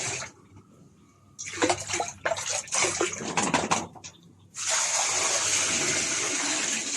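Water splashes in uneven bursts into a container, then settles into a steady strong pour that continues to the end.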